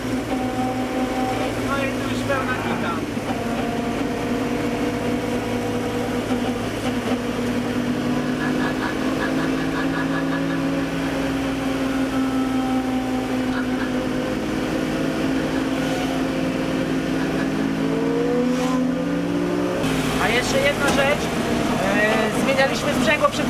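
A V8-swapped BMW E30 runs along a forest touge road, its engine droning steadily with shifting pitch and then rising sharply near the end, heard from inside the car under ongoing talk.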